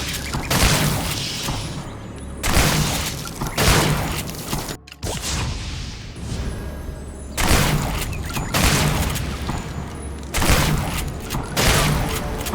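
Frozen-barrel shotgun fitted with a high-level ice gem in a first-person shooter, firing repeated loud close blasts in bursts, each with a booming thump and brief whooshing tail, separated by short lulls.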